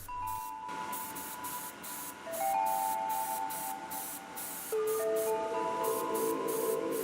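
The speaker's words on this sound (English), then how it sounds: "I use a cheap airbrush, Fengda BD 130, because primers are difficult for cleaning." A cheap Fengda BD 130 airbrush sprays primer onto a 1/35 scale Centurion tank model, a steady close airy hiss broken by short pauses where the trigger is released and pressed again.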